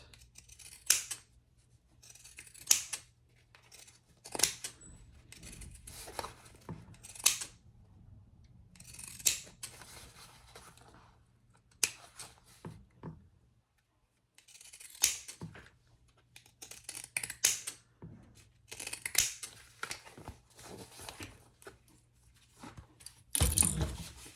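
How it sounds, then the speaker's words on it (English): Pinking shears snipping through fabric around the curves of a sewn eyeglass case pouch, a long run of short, crisp cuts in irregular bursts, close and fairly quiet, with brief pauses between passes. "Now I'm going to use my pinking shears on all these curves."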